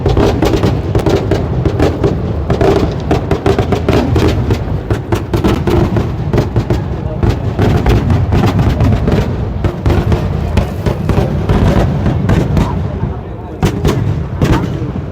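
Rapid, dense bursts of firecrackers explode one after another nearby at the Kavassery Pooram festival, a loud continuous crackling barrage with barely a pause.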